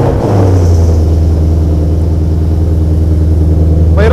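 Deep, steady exhaust rumble from a Ford Mustang with its active exhaust removed, loud and close, idling with a low throbbing drone that holds throughout before a brief rise near the end.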